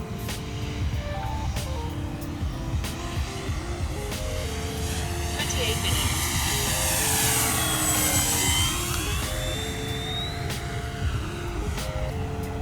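A large RC P-51 Mustang warbird model flies overhead. Its engine drone swells and pitches as it passes, over steady wind noise outdoors.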